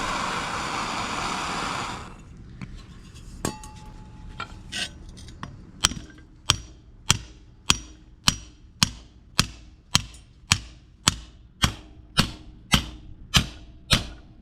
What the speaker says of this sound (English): then I'm going to hammer them once I feel like it's hot enough